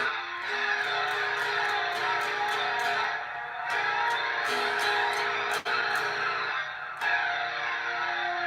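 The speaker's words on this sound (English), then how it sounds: "That flanger sound you hear at the start of those songs." An electric guitar drenched in a sweeping flanger effect rings out loud, its chords whooshing and swirling, with a few sharp strums and brief breaks.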